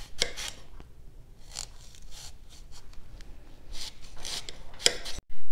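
A knife cuts slices from an organic apple with the peel left on, making a series of short crisp crunching and scraping strokes, close and fairly loud, with no talking.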